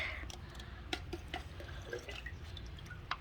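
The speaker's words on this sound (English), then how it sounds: "I only water uh, the very base of the plant" Water drips and trickles faintly at the base of a sweet potato plant in an Arizona garden, with scattered small drops and splashes close by in a quiet setting.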